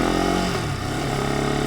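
Ducati Monster 2026 motorcycle pulling away, its engine note loud and close, a low steady drone that drops briefly as the bike gets under way, then settles into a rising pitch.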